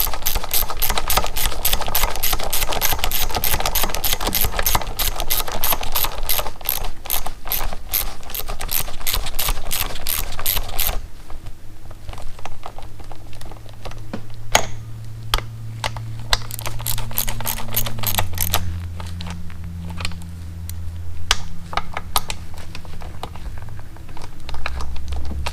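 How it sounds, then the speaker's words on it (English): Ratchet with a 10mm socket snugging the oil pump bolts on a 1984 Honda Shadow 500 motorcycle, a long run of fast even clicks, then slower, sparser clicks with a low hum, close and steady, no talking. "I gotta get a 10mm socket and snug them up. I'm tightening up these bolts."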